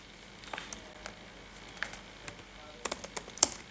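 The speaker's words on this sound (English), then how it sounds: "Let me type here." Typing on a computer keyboard, soft scattered key clicks in short irregular bursts, quiet and close.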